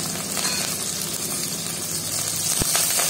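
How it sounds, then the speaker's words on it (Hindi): Ginger and green chili frying in hot oil, a steady close hiss and crackle of sizzling that carries through the whole stretch, with one soft knock near the end. "तेल हमारा गर्म हो चुका है, अब इसमें हम बस पहले अदरक डालेंगे। अदरक डालने के बाद हमें हरा मिर्च डालेंगे।"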